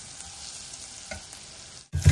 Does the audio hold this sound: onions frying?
yes